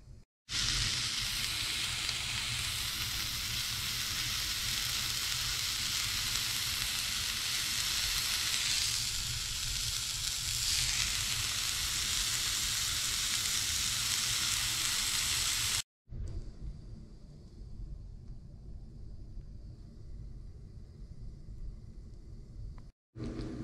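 A pot of pho broth with fish sauce and rock sugar cooks on the stove, giving a steady, loud hiss and bubble. The sound cuts out sharply, then continues more quietly and evenly.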